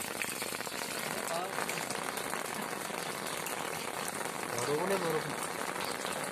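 Heavy rain pours down in a steady, dense hiss that fills the whole stretch, with someone talking over it and a faint tonal sound rising briefly near the end.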